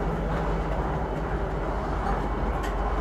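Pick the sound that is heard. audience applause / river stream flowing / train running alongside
train running alongside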